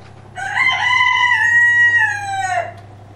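A rooster crows once, loud and close, a long harmonic call rising then holding before dropping off, over a low steady hum.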